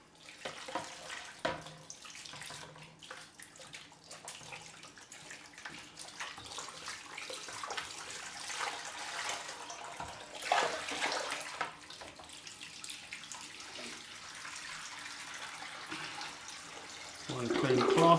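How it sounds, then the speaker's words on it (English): A bathroom tap runs fresh water into a basin during a wet shave with a straight razor, a faint, steady hiss with occasional splashes that swells louder near the end. "That, add some fresh water."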